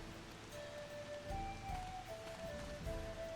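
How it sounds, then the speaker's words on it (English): Soft, steady rain falling in the Final Fantasy XIV Dawntrail game world, a faint continuous patter with a few quiet tonal sounds drifting above it. "yeah, it's raining, of course it is"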